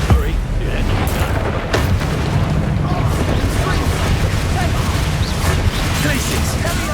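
Spell explosions from Confringo and Bombarda in the Hogwarts Legacy video game, a dense, loud wash of booming blasts and crashing impacts that never lets up, with game speech mixed in.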